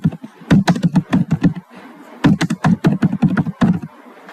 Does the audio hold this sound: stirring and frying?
no